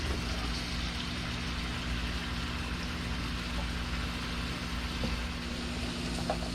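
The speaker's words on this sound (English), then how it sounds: "we're gonna sizzle the crap out of them now" Pork chops seasoned with Tony Chachere's sizzle in a frying pan, a steady crackling hiss that runs evenly throughout, with a low constant hum beneath it.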